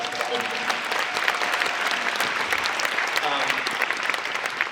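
Steady, dense applause from a studio audience fills the whole stretch, loud and sustained without a break, with a faint murmur of voices underneath.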